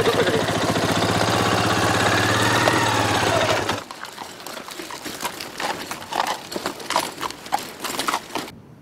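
A steady engine drone like an idling quad fills the first part, then a horse's hooves clip-clop in an irregular, close rhythm during riding.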